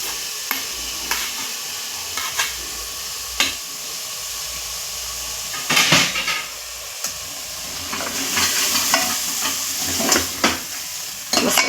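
Washed masoor lentils sauté in masala inside a pressure cooker over low flame, a steady sizzle and hiss broken by intermittent scraping stirs and clinks of the spoon, close and alone without talk.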